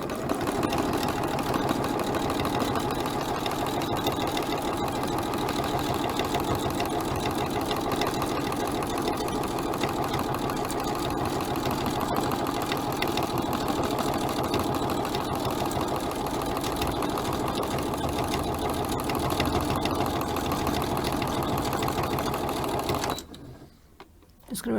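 A sewing machine stitches free-motion embroidered appliqué bunting flags in a steady, continuous mechanical whir close by, running without pause for most of the time before stopping abruptly near the end.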